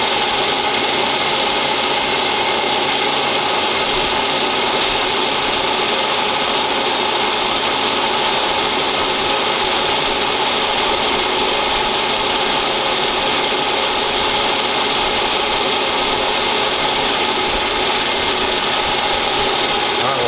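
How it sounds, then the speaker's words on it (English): Steady grinding, whirring lathe noise runs without a break as a number 7 tap drill bores a hole for a 1/4-20 thread, a motor drone with a rasping cutting texture, close and fairly loud, no voices. "I'm going to try to drill it with the number 7 tap drill for a 1/4 20."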